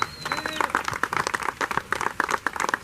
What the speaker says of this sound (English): So let's give Scott a huge round of applause.